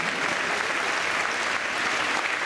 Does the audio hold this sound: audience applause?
yes